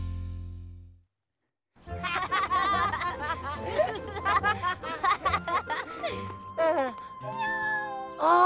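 A kitten meows repeatedly, close and clear: a run of high, plaintive cries with short gaps, some drawn out and wavering, after a brief quiet start.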